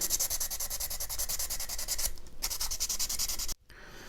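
A detailed plastic part for a 1/250 scale Yamato model ship is sanded with quick, rhythmic back-and-forth strokes, close and steady, pausing briefly before stopping abruptly near the end.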